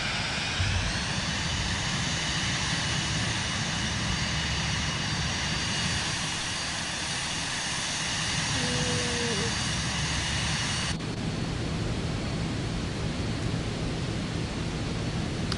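Continuous loud roar of the Vision Jet's engine in Microsoft Flight Simulator 2024, a dense steady rumble and hiss with a faint tonal chirp near the middle and a slight tonal shift toward the end, no voices.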